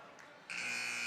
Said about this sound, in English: that's going to be the final buzzer of the second period